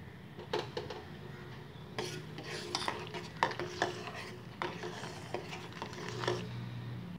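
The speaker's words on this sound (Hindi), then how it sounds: "मैंने दूध में चावल डाल दिए हैं और इसे अब लगातार चलाते रहना है और चलाकर पकाते रहेंगे।" A spoon stirs rice in milk in a pot while kheer cooks, giving repeated close scraping and sloshing strokes at an irregular rhythm over a low simmering background, with no talk.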